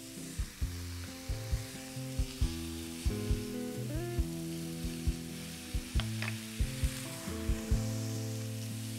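A couple of bacon slices frying in a pan, a steady soft sizzle broken by regular sharp knocks and clacks of utensils or a knife on a board, with no voices.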